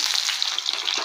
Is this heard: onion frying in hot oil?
yes